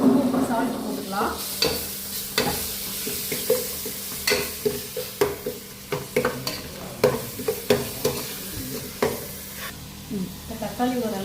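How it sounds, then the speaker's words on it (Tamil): Tomatoes sautéing with salt in a pan for a drumstick chicken curry, a continuous close sizzle broken by repeated scraping stirs at a steady rhythm. "தக்காளி ஓரளவு வதங்கி வந்துருச்சு."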